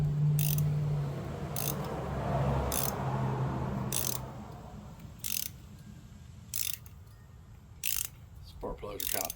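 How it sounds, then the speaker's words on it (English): A ratchet turning a 5/8 spark plug wrench on an extension, breaking loose a tight spark plug deep in its well on a 15-year-old 2010 Toyota RAV4, heard as a few sharp clicking bursts spaced a second or so apart over low background rumble. "we got our 5/8 spark plug wrench"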